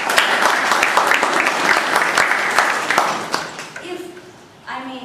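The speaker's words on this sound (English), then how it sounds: "May I request you all to give a big round of applause." An audience at a Toastmasters-style meeting gives a big round of dense applause that carries on for several seconds before tapering off, and a voice begins talking as it fades.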